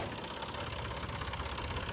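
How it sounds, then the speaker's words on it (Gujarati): A tractor's diesel engine runs steadily at a close, even idle, a continuous rough throb with no talking over it. "હિતેશભાઈ ટ્રેક્ટર ચાલુ કરી નાખ્યું"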